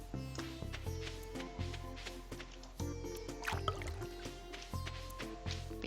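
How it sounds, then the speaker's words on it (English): Crops are watered in the farming video game Stardew Valley, giving soft repeated watery splashes and drips over a steady music-like tonal bed, fairly quiet and without speech. "the soil does visibly darken when you water"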